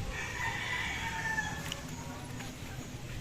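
Chickens cluck and stir in a coop. A rooster crows once, faint and a little distant, over a low background rumble, with murmurs from the birds around it.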